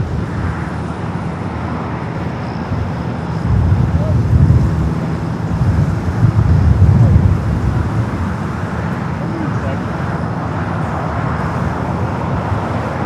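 Lufthansa Airbus A380 taxiing at LAX airport, a broad steady engine rumble and roar with a swell in the middle, mixed with airport traffic noise, no talking.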